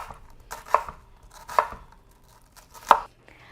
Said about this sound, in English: I'm gonna cut them once more